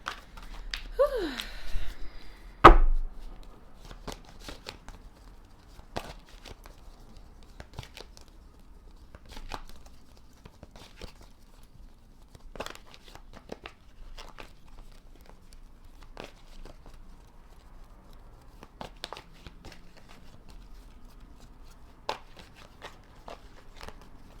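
Tarot cards are shuffled by hand in a quiet room: a sharp riffle near the start, then a long run of soft, scattered card taps and rustles, close and faint.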